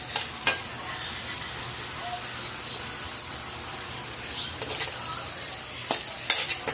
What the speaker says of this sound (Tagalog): nagigisa na ako ng bawang sibuyas